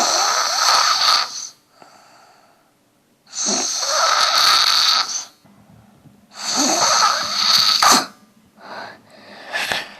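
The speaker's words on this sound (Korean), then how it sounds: "잠이 들자마자 코를 골기 시작한다" A young child with worsening allergic rhinitis snores through the mouth while asleep, loud rasping snores coming in long bursts separated by quiet pauses, heard close and without talk.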